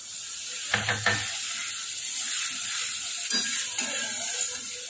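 Water goes into a frying mustard and poppy masala in a pan, making a strong steady sizzle and hiss with a couple of short splashy bursts close by.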